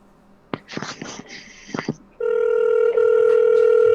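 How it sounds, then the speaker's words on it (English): A phone call rings through on the line: a few clicks and rustles, then a loud, steady electronic ringing tone held continuously, close and clear. "All right, it's ringing."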